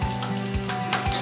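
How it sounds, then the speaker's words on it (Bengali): Onions fry in a pan with a loud, dense sizzle broken by a few stirring scrapes, close and steady with no voices. "পেঁয়াজগুলো অনেকটা ভাজা ভাজা হয়ে গেছে"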